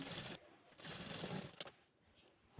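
Sewing machine stitching a button strip on a plain blouse, running in short bursts of fast mechanical whirring separated by brief pauses, close and fairly quiet.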